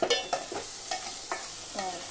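A spoon stirs eggplant vegetable bhaji with dal in a sizzling pan, a few distinct scraping strokes spaced about every half second over a soft steady frying hiss, close and moderately quiet.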